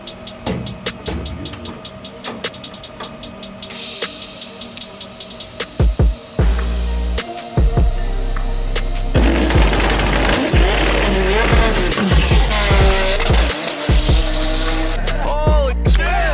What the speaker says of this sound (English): Dude, this is real race car.